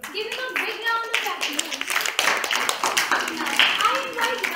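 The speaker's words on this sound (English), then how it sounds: "Give him a big round of" Children clap in a quick, uneven burst after a poem recitation at an English elocution activity, with a voice and talk running over and between the claps.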